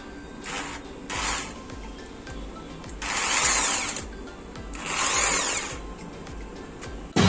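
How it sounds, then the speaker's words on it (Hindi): An iBELL 650W electric drill from the TD13-100 professional tool kit whirs up close in two quick short bursts, then in two longer runs of about a second each, with quieter handling noise between them. "तो अभी मैं आपको ड्रिल करके दिखाता हूँ"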